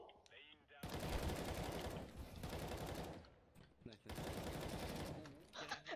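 Sustained automatic gunfire from Counter-Strike: Global Offensive, loud dense bursts of rapid shots running for about two seconds, a short gap, then more bursts, with faint game sounds between.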